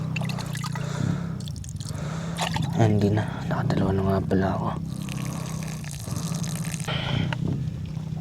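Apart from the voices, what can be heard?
rinsing uncooked rice in water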